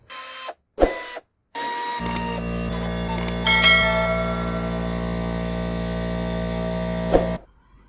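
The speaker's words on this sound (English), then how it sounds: "I am using an air ratchet." An air ratchet spins off strut nuts on a 2012 Ford Mustang V6, with a few sharp clicks and bursts before a steady high-pitched pneumatic whir runs several seconds and then cuts off.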